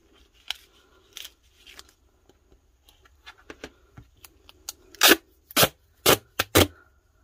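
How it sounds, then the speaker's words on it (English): Scissors cut strips for a stitched-binding junk journal, making a series of quiet, crisp snips that grow louder and quicker toward the end, close up and with no talking. "I'm just going to cut a couple longer pieces to start."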